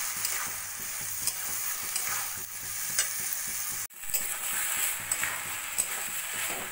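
Rice and chana dal being stirred and fried together in a pan for khichuri, with a steady sizzle broken by repeated scraping strokes of a spoon and a brief dropout partway through; no one speaks.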